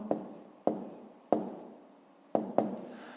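Pen strokes on paper while numbers are written out for a fifth-grade maths exercise, five sharp scratchy taps spaced unevenly, close and fairly quiet, with no voices.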